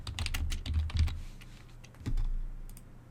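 Keystrokes on a computer keyboard entering a search in the Windows 10 Settings app, a quick burst of close clicks, a pause, then a few more taps alone.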